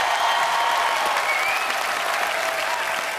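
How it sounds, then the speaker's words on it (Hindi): Dense, loud studio audience applause fills a Hindi comedy talk show set, steady and close for a few seconds with no gaps. "जोरदार तालियां एक बार"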